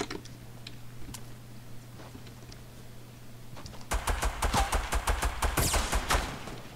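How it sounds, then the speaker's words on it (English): Gunfire aimed at the player in a video game: faint scattered shots over a low hum at first, then a close, rapid volley of sharp cracks and impacts for the last few seconds. "Okay, I'm getting shot now."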